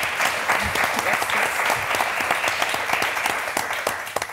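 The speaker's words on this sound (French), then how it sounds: "Et les mêmes applaudissements pour Christelle et Stéphanie" Studio audience on the French game show Motus applauds steadily and loudly, a dense wash of clapping with occasional sharper claps standing out, sustained throughout with no talk over it.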